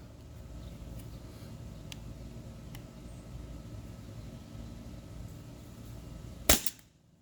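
A Heckler & Koch VP9 T4E .43-caliber CO2 pistol fires a 1 gram nylon ball: one sharp, loud crack near the end, after a long stretch of steady low background hum, followed by a brief fading echo.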